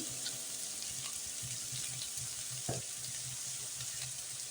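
Vegetables frying on medium gas with cumin powder for veg biryani, producing a continuous crackling sizzle up close, broken by a brief scrape of a spoon partway through.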